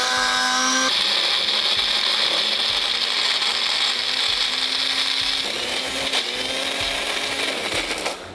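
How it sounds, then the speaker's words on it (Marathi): A mixer grinder coarsely grinds sprouted mixed pulses without water, giving a loud, steady motor whir with gritty grinding that shifts partway through and winds down at the end. "मिश्र कडधान्ये आपण पाणी न घालता मिक्सरला छान ओबडधोबड बारीक करून घेतलेले आहेत."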